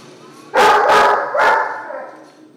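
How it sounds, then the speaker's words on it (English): Three loud, close dog barks in quick succession, the last trailing off, from a dog in the game Bulletstorm, heard alone without talk. "There is a dog doing the playthrough too."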